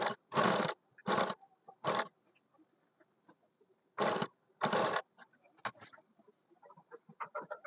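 A sewing machine press-stitches along a canvas blouse. It runs in short, close, whirring bursts, several quick runs separated by pauses, with faint handling noises in between.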